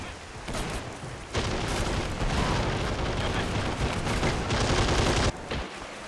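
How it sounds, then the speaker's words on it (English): In the Men of War: Assault Squad 2 multiplayer battle, dense gunfire from both sides crackles nonstop: overlapping rifle and machine-gun bursts with heavy booms, loud and continuous with brief lulls. "Definitely a lot of firing going on both sides"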